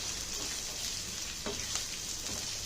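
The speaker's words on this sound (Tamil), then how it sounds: "இது மீடியம் ஃப்ளேம்லேயே வச்சு நல்லா குக் பண்ணிட்ட பின்னாடி இது வெங்காயம் நல்லா அரை பாகத்துக்கு குக் ஆகிட்ட பின்னாடி தான்" Onions sauté in a pan over a medium flame for a tomato-onion chutney, giving a soft, continuous sizzle with a few faint stirring scrapes, heard alone.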